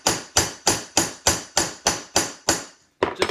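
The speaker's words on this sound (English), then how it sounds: "I'm going to take the ball peen and just hammer over the head." Ball peen hammer striking a rivet head on steel plate, eight sharp evenly spaced metallic blows about three per second, close and loud, followed by a couple of quicker lighter taps.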